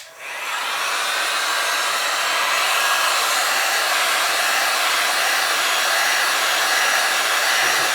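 Heat gun blowing hot air onto a plastic console part of a 1977 Camaro Z28: a steady, loud, close whooshing hiss that starts at once and runs unbroken with no voices.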